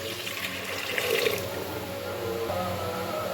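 Water poured into a pressure cooker of fish bone soup (tengra), a steady splashing, trickling stream close by that swells briefly and then continues evenly, with no talking.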